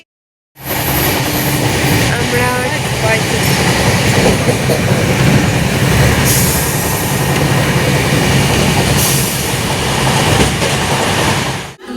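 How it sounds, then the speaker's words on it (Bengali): A train pulls into a station on a trip via Shivkhola, with a loud, continuous rumble and rhythmic wheel clatter filling the whole stretch; a voice briefly speaks early on. "আর এদিক থেকে ট্রেন ঢুকছে।"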